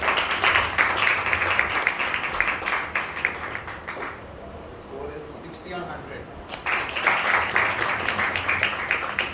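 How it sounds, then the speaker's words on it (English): At a school interns' farewell award ceremony, a crowd applauds an award winner with loud, sustained clapping that fades out for a short spoken announcement, then swells back to full strength. "Can I have a round of applause, please?"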